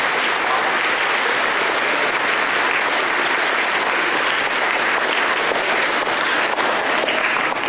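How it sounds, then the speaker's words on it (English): A school assembly audience of students and guests at a veterans' assembly claps loudly and continuously, a dense, full wash of applause without pause. "Let's give the Festus Intermediate a round of applause."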